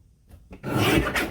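A paper trimmer slicing through a panel of patterned card stock, a faint click followed by one steady rasping cut about a second long, heard close with no talk.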